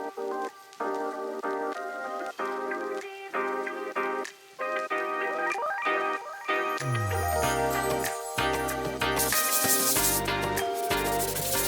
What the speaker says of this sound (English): I'm going to take this little zip kit I have from Gator, 120 grit, and we are going to sand in the direction of the grain.